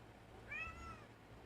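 A single short cat meow, faint and fairly close, rising then falling in pitch over a quiet room hum, with no talking.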